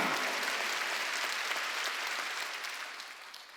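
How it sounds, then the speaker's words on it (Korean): A congregation applauds during a Wednesday church worship service, a dense wash of clapping that starts strong and slowly fades over a few seconds, with no voices on top. "박수"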